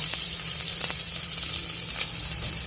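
Onion sizzles in hot oil with cumin and mustard seeds for khichdi, a close, continuous frying hiss broken by a few sharp crackles and pops.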